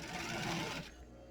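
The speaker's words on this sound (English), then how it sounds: "Just top stitching the pocket down." A sewing machine runs steadily while top stitching the pocket of a potholder, a close, even whir lasting most of a second before it stops abruptly and leaves quiet room noise.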